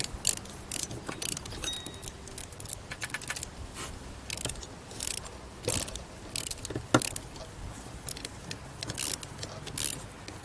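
An ordinary screwdriver tightens the screws on a carburetor from a 1977 Sea Ray SRV220 boat during a rebuild, giving faint, scattered clicks and small metallic scrapes over a quiet background, with no talking.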